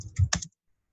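A few quick keystrokes on a computer keyboard, close and clear, a short burst of clicks that then stops into silence.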